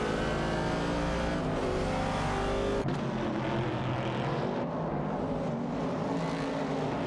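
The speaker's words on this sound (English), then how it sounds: "Amaljet is driving a Ford Mustang Boss" A Ford Mustang Boss race car roars in a racing video game, its engine note holding high and loud before a sharp gear-change drop, then climbing and droning again with no voices.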